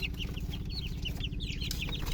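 Eleven 40-day-old backyard chicks clucking and peeping in quick, overlapping calls, close by over a steady low hum.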